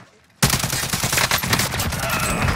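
Rapid automatic gunfire in the Call of Duty video game bursts in after a brief quiet moment, then continues as dense, loud, sustained shooting.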